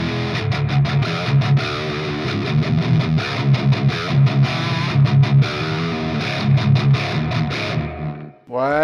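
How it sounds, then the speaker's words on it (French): Electric guitar played through a reverb pedal set darker with more bass, a dense, sustained wash of chords and notes running continuously before the ring cuts off near the end. "Et à gauche une reverb un petit peu plus sombre avec plus de basse."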